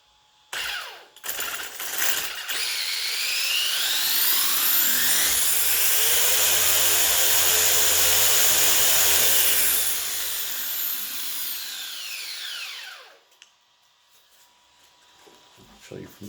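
An ExceedRC short-course RC truck's electric motor whines up to a loud, rising high-pitched scream with sweeping harmonics, holds at full throttle for several seconds, then winds down and cuts off, with brief talk at the start.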